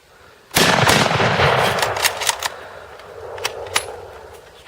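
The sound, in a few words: two people rapidly firing 117-year-old rifles at cement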